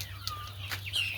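Chickens of a native Filipino breed cluck and chirp in a coop, with a short bright call rising over a steady low hum, all at close range for a moment.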